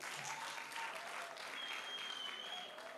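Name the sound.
audience applause for the team leader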